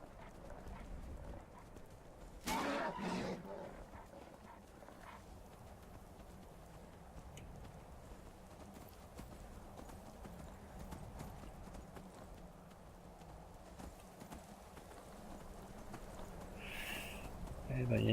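A horse's hooves clip-clop steadily in the Skyrim video game, an even trotting rhythm running throughout at moderate level, with a few louder knocks near the start and someone talking over it at times.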